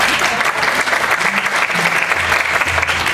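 Church storytelling audience breaking into steady, loud applause, many hands clapping together in a dense continuous wash that stays strong throughout.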